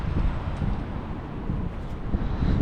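Wind gusting outdoors on a cloudy day in the old coastal city of Byblos, Lebanon, a steady low rumble of wind buffeting the microphone with slight swells, fairly quiet and with no voices.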